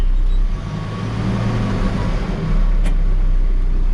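A 2013 Case 590SN 4x4 backhoe loader with extend-a-hoe idles in gear and drives, its engine giving a steady, loud, low rumble that dips briefly and swells again, with a short high whine near the end.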